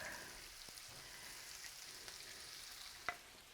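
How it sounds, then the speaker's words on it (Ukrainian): Onion frying in lard, a steady hissing sizzle that continues without a break, with a few soft pops and one sharper crackle near the end, no talking. "У цей смалець ми даємо цибульку перший раз."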